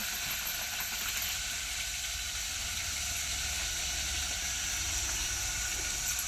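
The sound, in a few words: onion sizzling as it is added to hot oil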